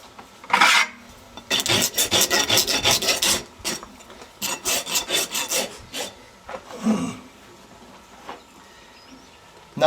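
Rasp filing down excess hoof wall on a Peruvian Paso horse, a series of close, rhythmic scraping strokes in bursts with brief pauses between, no talking.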